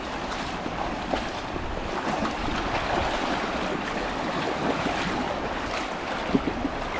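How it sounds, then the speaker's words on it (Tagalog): Strong water rushes among rocks in a steady, broadband roar, loud and close with slight gusts and a couple of brief knocks, with no voices. "Malakas yung tubig to."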